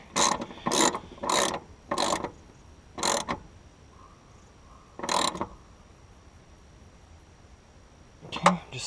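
A ratchet tightening a bolt on the alternator of a 1992 Jeep YJ with a 4-cylinder engine, several short close bursts of clicking with pauses between, ending in a final quick pair.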